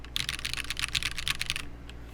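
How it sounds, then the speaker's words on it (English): Rapid, steady keystrokes on a TKL One HSE prototype mechanical keyboard, close and crisp, running continuously for about a second and a half before stopping, with no talking. "I'm probably going to be typing on this one for the next few days."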